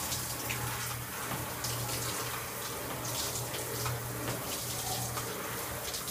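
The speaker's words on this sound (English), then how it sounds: "Let plenty of water run over it." Tap water runs steadily over a fencing lamé being rinsed, a soft continuous splashing gush with faint low hum, no voices.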